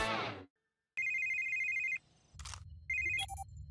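Cartoon telephone ringtone: a bright electronic trill rings for about a second after a brief pause, then a muffled rumble and a second shorter ring, with a burst of voice at the start.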